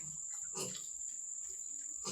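Faint grunts from three fattening pigs on a farm come in a few short bursts over a steady high insect drone, with soft murmuring nearby.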